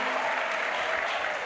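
Church congregation at an evangelistic crusade applauding in praise of Jesus Christ, a dense steady wash of many hands clapping at close range with no voices over it.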